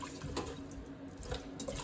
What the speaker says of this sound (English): I'm just gonna like run them off of water again just because I cut them